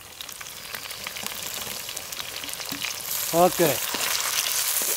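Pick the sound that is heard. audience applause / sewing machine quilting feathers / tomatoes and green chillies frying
tomatoes and green chillies frying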